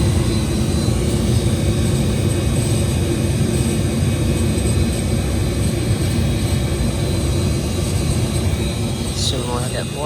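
Burnham oil boiler burner firing just after ignition, a steady loud roaring rumble that holds constant throughout, with a brief squeak near the end.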